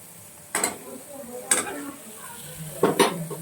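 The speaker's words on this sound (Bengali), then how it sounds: "তো সব কিছু দিয়ে ভালো করে নাড়াচাড়া করে নেব।" A utensil scrapes and knocks against a pan while chicken masala is stirred, three distinct clattering strokes spaced about a second apart over a low background hiss.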